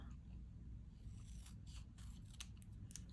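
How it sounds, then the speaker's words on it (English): Scissors snip paper for a planner page in a quiet room, several quick crisp cuts and light scrapes at close range, faint and alone. "let's trim this up a little bit"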